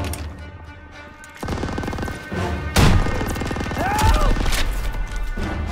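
Machine gun fire in a World War II Call of Duty battle, sustained bursts of gunfire with sharp impacts and booms in a dense, loud mix under shouting voices.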